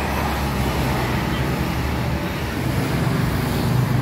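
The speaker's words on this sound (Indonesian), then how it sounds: "Ada bis Handoyo jurusan Blitar Palembang." A Handoyo intercity bus on the Blitar–Palembang route passes along a road in East Java, its steady engine and tyre roar filling a continuous loud traffic rumble throughout.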